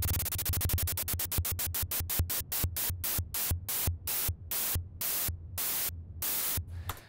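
Synthesizer tone with a square-wave LFO modulating its frequency, producing rapid stepped pulses that gradually slow and spread apart over several seconds, steady and fairly loud.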